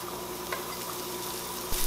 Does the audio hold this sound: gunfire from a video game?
no